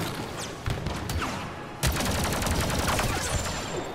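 Machine gun fire in an arcade video game, with rapid bursts of rattling shots and sharp cracks, one louder burst near the middle, continuing as dense fire to the end.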